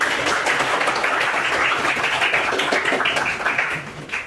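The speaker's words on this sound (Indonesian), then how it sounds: "Berikan aplaus buat April." A classroom of students gives a fellow student a round of applause. The clapping is continuous and fairly loud for about four seconds, then tapers off at the end.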